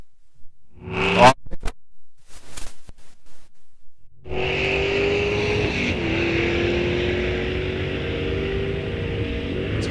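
A 1964 Chevrolet Chevelle and another drag car at a raceway fall drag event, with a few sharp engine revs at the line followed by a loud, sustained roar as both launch and accelerate down the strip.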